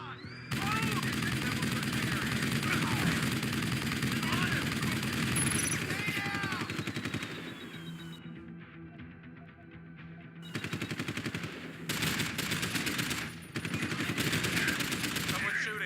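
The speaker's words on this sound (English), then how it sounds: "Someone's shooting." Gunfire in the video game Deus Ex: Human Revolution, sustained crackling bursts at close range that pause briefly midway and then resume in several loud clusters, with game voices speaking underneath.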